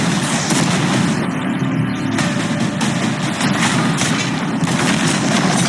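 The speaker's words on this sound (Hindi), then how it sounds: "अब हम तुम्हारी नई यॉट पर कैनन्स को शूट करने वाले हैं।" Cannons firing at a new yacht: loud, continuous booming and crashing blasts, close and dense, with impacts running together throughout.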